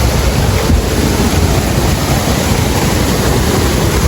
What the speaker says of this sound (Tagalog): Kahit artificial falls lang.